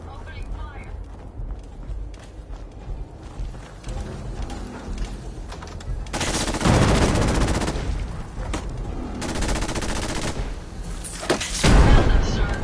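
Gunfire in the video game Fallout 4: Nuka World, heavy volleys and bursts of shots that swell loudly mid-stretch and again near the end over ongoing game ambience, with speech heard alongside.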